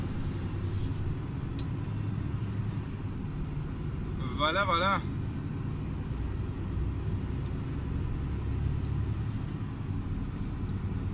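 A heavily loaded truck rolls along the road, its engine giving a steady low rumble heard from inside the cab, with a brief word spoken midway.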